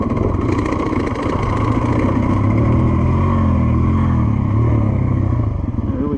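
A 2024 GasGas EC450F dirt bike rides down a steep slope in low gear, its four-stroke engine a loud, close, continuous rumble that rises and falls in pitch, with rattling from the chassis.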